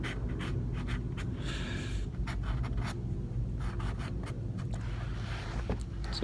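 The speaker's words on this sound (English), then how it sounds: "This is trying to draw at this funny angle." A pencil scratches across paper in short, quick strokes and bursts, faint and close, with brief pauses between marks over a low background hum.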